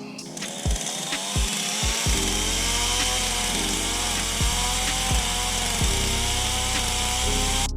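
A chainsaw roars steadily close by, its pitch dipping sharply several times as the chain bites into tree stumps, cutting them flush to the ground, then revving back up.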